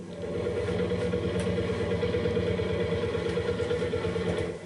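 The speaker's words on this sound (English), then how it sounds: "Graham Robinson driving David Wheeler's old Lance Bulldog tractor." An old Lanz Bulldog tractor rolls by in a parade, its single-cylinder engine thumping in a steady, loud, low clattering rhythm close by, with no talk over it.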